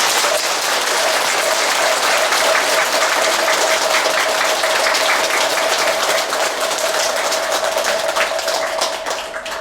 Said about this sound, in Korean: 부처님 오신 날을 다시 한번 자축하는 의미로 큰 박수 부탁드리겠습니다